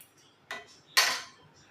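A spoon stirring a homemade healthy energy drink in a glass, heard as two brief clinks close by, the second louder with a short ring, over near silence.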